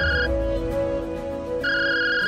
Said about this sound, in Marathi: तुमचा फोन.